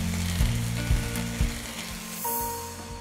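Onion puree and chicken sizzle and crackle in a hot pan while a West African watermelon seed soup is cooked, a steady close frying hiss with a few soft stirring knocks and no speech.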